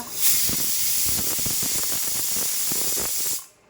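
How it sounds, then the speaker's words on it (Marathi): A pressure cooker whistle lets out a loud, continuous steam hiss that holds steady for over three seconds, then cuts off abruptly. "स्वागत आहे तुमचं कुकरच्या शिट्टीसोबत"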